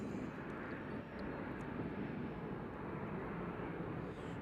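A large aircraft roars steadily at Nashville airport on a windy day, a broad continuous engine rumble filling the clip with no pauses and no voices.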